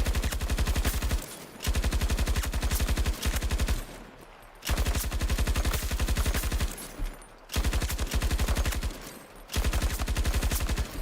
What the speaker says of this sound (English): Was the RPT, was this LMG actually that bad?